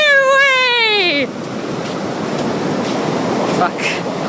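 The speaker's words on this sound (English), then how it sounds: "Waves. Not again." Ocean waves wash onto a beach in a steady broadband roar with gusty wind buffeting the microphone, opening with a brief falling, wailing voice.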